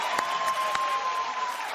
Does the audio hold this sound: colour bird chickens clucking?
no